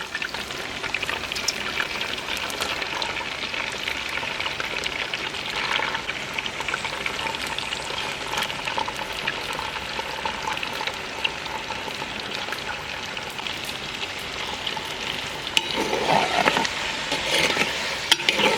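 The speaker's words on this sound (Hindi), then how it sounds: "ऑयल गर्म हो चुका है, अभी हम ये चिकन इसमें डाल देंगे।" Chicken pieces dropped into hot cooking oil in a karahi for desi Shinwari chicken karahi, giving a steady, close sizzle and crackle of frying that continues throughout and swells louder near the end.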